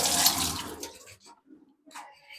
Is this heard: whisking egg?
no